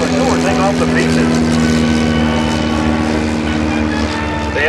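An L-2 light military propeller plane flies at an airshow, its engine a steady, loud droning hum with a strong low tone, while an announcer speaks over it.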